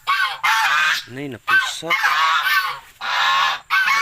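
A pet goose honks loudly and close in repeated harsh bursts with short gaps, while a person speaks briefly between calls.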